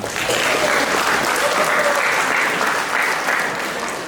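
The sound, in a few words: audience applause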